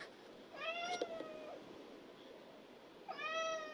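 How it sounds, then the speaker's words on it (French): A cat on a farm meows twice at a door, a drawn-out call followed by a shorter one a couple of seconds later, fairly close against a quiet background hiss. "Je me mets devant la porte et je miaule jusqu'à ce que mon humain se réveille pour m'ouvrir."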